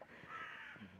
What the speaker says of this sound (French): Il y a un corbeau, il fait de ses bruits.